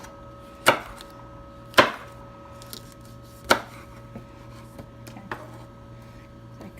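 A kitchen knife slices peppers into fine rings on a cutting board: three sharp, close chops followed by several lighter cuts in an uneven rhythm, with a brief spoken word near the start.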